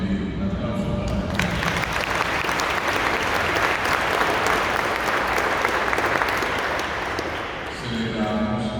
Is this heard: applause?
yes